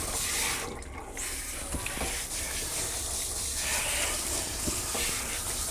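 Running water sprays steadily over a dog's coat as soap is rinsed off during a medicated grooming bath, a close, continuous hiss with faint handling bumps underneath.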